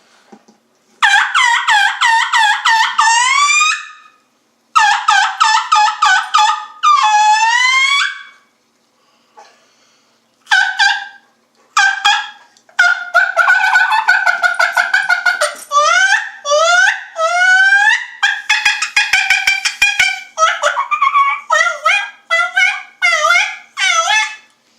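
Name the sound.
turkey call imitating a turkey assembly call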